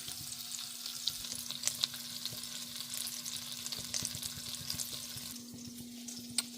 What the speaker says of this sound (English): Knob of butter here. Right there, let that melt down.